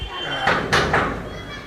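Someone knocks on a gate: three or four loud, close thuds and bangs over about a second, heard under speech.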